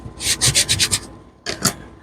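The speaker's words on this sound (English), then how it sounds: "Glue her down real good. Burnish, burnish, burnish." Quick rubbing strokes burnishing a glued paper piece flat onto a paper folio, a rapid rhythmic scrubbing burst of about six strokes, a short pause, then a few more close strokes.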